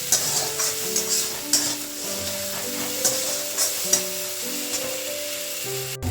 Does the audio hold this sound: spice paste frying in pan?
yes